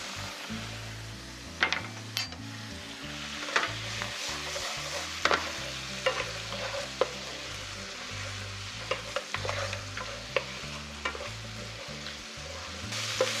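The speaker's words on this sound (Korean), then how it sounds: "해물을 넣고 30초간 볶은 뒤 화이트 와인 1큰술을 넣고 볶아주세요." Seafood stir-fried in a pan with a splash of white wine, a steady sizzle with repeated scraping stir strokes and sharp clacks of a utensil against the pan throughout.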